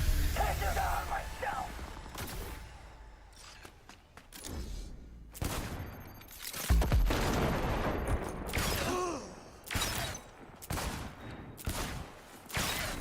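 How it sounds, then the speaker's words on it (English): Enemy gunfire in Cyberpunk 2077: Phantom Liberty, a series of sharp, loud bursts and volleys separated by short pauses, some rapid and rattling, others single heavy cracks, close to the listener with no talk over them. "Oh, you guys are shooting at me, huh?"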